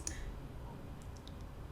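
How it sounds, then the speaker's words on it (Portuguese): A computer mouse clicking on a download link, one faint crisp click at the start followed by a few softer light ticks over a quiet room hum. "Para baixar ele aqui, ó, vou clicar aqui nesse link aqui, ó."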